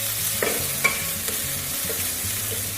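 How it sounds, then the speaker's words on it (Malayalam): Chopped tomatoes stirred in a hot pan over medium flame: a steady close sizzle with scraping spoon strokes and a few louder clinks against the pan. "തക്കാളി ചേർത്ത് മീഡിയം ഫ്ലെയിമിലേക്ക് മാറ്റി നന്നായി ഒന്ന് ഇളക്കി"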